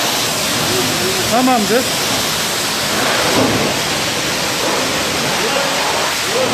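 Water spraying steadily onto a ceramic-coated car surface, a continuous loud hiss throughout, with someone speaking briefly over it.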